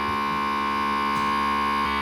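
A USB rechargeable handheld vacuum sealer runs steadily on a bag of homemade granola, giving a continuous motor hum with strong tonal harmonics, close and alone, with slight shifts in pitch near the end.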